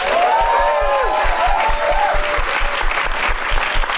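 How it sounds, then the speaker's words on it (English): A live audience at a Halloween special show applauds and cheers for a monster in a vote, producing dense rhythmic clapping and crowd noise throughout, with a voice speaking over it. "let's hear a cheer for Nosferatu"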